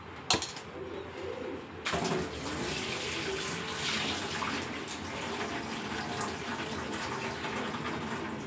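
Water runs steadily from a tap in a kitchen while idli dosa batter ingredients are rinsed, with a short splash and clatter at the start before the steady flow settles in.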